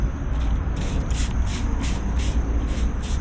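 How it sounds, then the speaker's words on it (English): Spray bottle pumps homemade cinnamon-and-milk mildew remover heavily onto zucchini and squash leaves, a rapid series of about eight short hissing bursts in an even rhythm over a steady background rumble. "spray it like such, heavy on my leaves"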